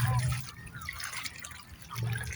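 Water flows back into a stream that had been shallow, a soft trickling and gurgling heard up close while people talk nearby.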